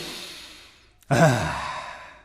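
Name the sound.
deep breath in, vocal warm-up exercise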